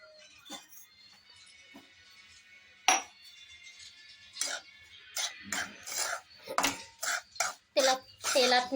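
A spoon scrapes and clinks against a pan while semolina sheera cooks over low heat, sparse taps at first, then quicker, louder metallic knocks and scrapes near the end.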